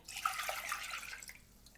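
Chicken broth is poured into a medium saucepan, giving a short, steady liquid splash close by with no talking.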